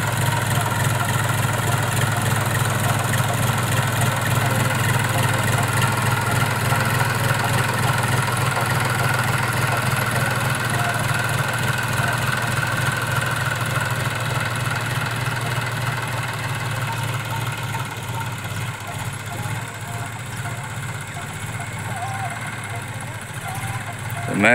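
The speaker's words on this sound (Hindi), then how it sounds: "जैंडियर ट्रैक्टर है जिससे पारा बन रहा है।" A John Deere tractor runs steadily in a mustard field while pulling an implement that builds earthen ridges, its loud, continuous engine drone holding close and even throughout before easing slightly toward the end.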